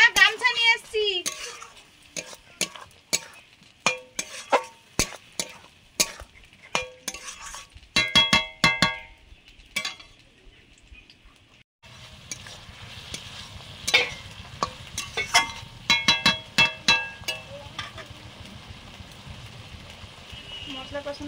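Spice paste frying in a pan while it is stirred with a metal spoon, giving sharp scraping clacks in irregular bursts over a soft sizzle, with background room noise.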